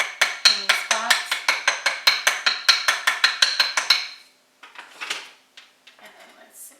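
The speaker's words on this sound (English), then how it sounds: "If we can give a little tap on the bottom, just kind of loosen any spots." Someone taps repeatedly on the bottom of a flipped snickerdoodle cake pan to loosen the cake: about twenty quick, evenly spaced metallic knocks, close and fairly loud, followed by a few scattered softer clunks.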